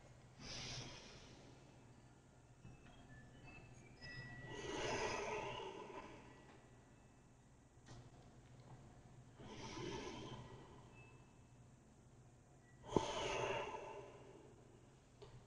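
Slow, audible breaths during a yoga bridge exercise for low back recovery, three long soft swells of air roughly five seconds apart with quiet pauses between, close and fairly faint, no talking.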